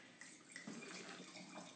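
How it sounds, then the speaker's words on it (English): Wine poured from a bottle into an all-purpose glass, Austrian wine in Austrian glassware, a steady close liquid trickle and splash lasting the whole moment, fairly quiet with no talk. "Pouring some for myself."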